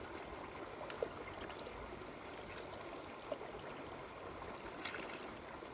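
Water trickling and pouring into a fishing groundbait mix, a steady soft watery stream at close range with a couple of faint clicks, no voices.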